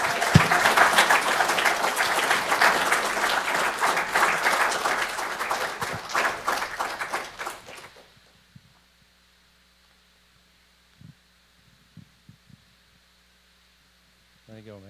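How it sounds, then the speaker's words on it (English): An audience at a city employee service awards ceremony claps loudly for about eight seconds, a dense roomful of applause that fades abruptly into near silence with a few faint knocks. "So I'm going to ask y'all give applause for our Employee of the Year, Officer Doug Rubin."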